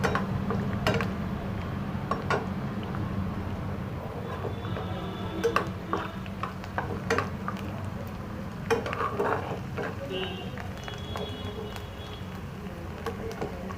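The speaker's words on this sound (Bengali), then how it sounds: "এবারে একটু রসুন কুচি, আদা কুচি আর কাঁচা লঙ্কা, এটাকে একটু ভেজে নিচ্ছি।" Chopped garlic, ginger and green chili frying in oil in a kadai, with a low sizzle under frequent sharp clicks and scrapes of a spatula against the pan, close and steady throughout.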